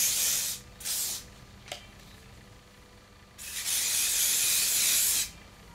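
A spray bottle sprays hair with two short hissing bursts, a small click, then one long continuous mist spray nearby, with no talking.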